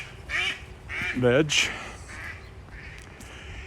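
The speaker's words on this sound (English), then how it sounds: "There are always geese." Waterfowl honk and quack near a fountain beside a lake in Regina, a few short, nasal calls bunched together close by, with a person talking briefly over them.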